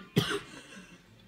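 A single short cough, fairly quiet, followed by faint room noise.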